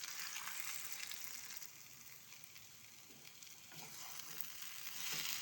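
Pointed gourd and red lentils sizzle softly in a pan while being stirred often, with a faint, continuous frying hiss and occasional scraping stirs.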